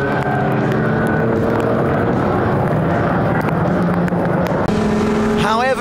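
Racing cars, among them a Mazda R100, roar past on a track, with a loud droning engine note and gear changes. A commentator talks over the noise.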